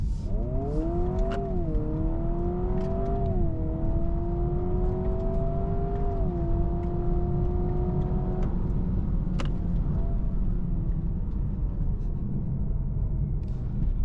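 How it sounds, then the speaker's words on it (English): A 2026 Honda Prelude engine hums steadily under road rumble, its pitch stepping down and easing as the car automatically downshifts while cruising. "The car downshift by itself is so good."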